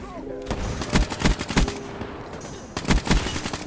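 Rapid bursts of gunfire in the video game Black Ops 3, with a gold KN-44 rifle in use, come in several tight volleys with brief gaps between them, loud and close.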